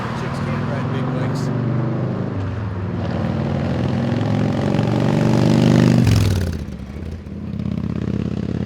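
A 1993 Harley-Davidson FXR motorcycle rumbles steadily with a deep engine drone, swelling as it pulls away up the road, then cutting lower and fading briefly before the idle-like throb returns; a voice talks over it.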